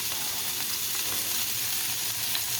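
Onions frying in bacon fat, a steady loud sizzle close by with occasional stirring crackles throughout.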